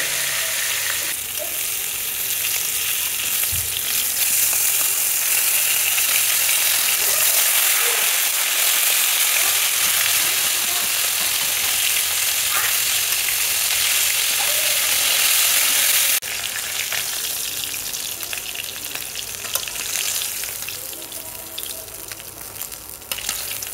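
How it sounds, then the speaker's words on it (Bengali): Dried chili frying in a pan for a fish recipe, a dense continuous sizzle with scattered crackles and occasional stirring clinks, close and loud, easing slightly in the last few seconds. "শুকনো মরিচটা একটু ভেজে নিচ্ছি।"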